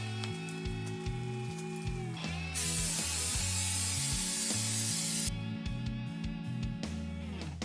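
Paint stripper sprayed onto the intake elbows and valve covers of a Nissan Skyline R32 GTR engine, a steady close hiss in one long burst, over constant background music.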